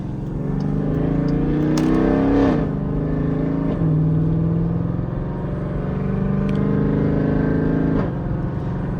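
A Jeep with a cammed 5.7-liter V8 cruising below 2,000 RPM, its lumpy engine note droning steadily from inside the cabin, with several gear changes shifting the tone.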